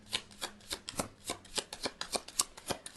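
A deck of tarot cards is shuffled rapidly, a steady run of crisp riffling flicks about three per second, close and clear with no talking.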